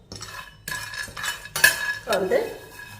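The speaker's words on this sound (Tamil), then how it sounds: "கடாயுடைய சூட்டில் 1 நிமிஷத்துக்கு வறுத்துக்கிடுவோம்." Peanuts dry-roasted in a hot kadai while a spoon scrapes and stirs, giving close metallic clinks and rattling scrapes in quick irregular strokes.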